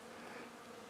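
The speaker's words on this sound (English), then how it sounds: "A bunch of my honeybees and a few big bumblebees are on here too." A steady, faint buzzing drone of honeybees and bumblebees on cherry blossoms, continuous and unbroken, with no voices present.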